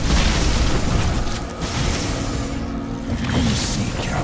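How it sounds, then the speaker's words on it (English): Heavy explosions of incoming fire in a sci-fi real-time strategy game, booming blasts layered into a loud, rumbling barrage that stays dense throughout, with no voices. "Brace for incoming fire!"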